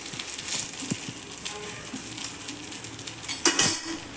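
Rava bun dosa sizzling in a hot pan as it is flipped over, a steady low crackle with a few light clinks of a spatula against the pan and a sharper scrape near the end.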